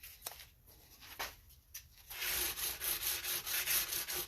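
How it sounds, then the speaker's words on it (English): Fine 320-grit sandpaper rubbed along the beveled metal fret edge of a bass guitar neck, a few soft isolated strokes giving way to steady, continuous close-up scraping friction. "What this 320 grit does is gets some of the machining or the teeth marks out that the file can potentially leave behind."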